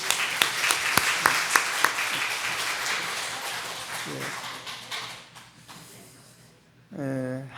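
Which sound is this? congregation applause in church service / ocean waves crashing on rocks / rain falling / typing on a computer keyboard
congregation applause in church service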